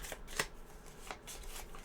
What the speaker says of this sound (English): We're going to shuffle the discard deck